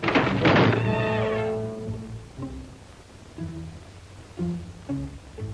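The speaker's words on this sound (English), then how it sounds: "The wind slammed a shutter against a window." A shutter slammed against a window by the wind gives a heavy, close thunk, followed by a few softer knocks over a quiet background.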